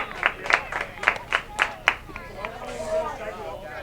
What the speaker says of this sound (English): Polite, cheerful clapping from the Indian dugout after that strike.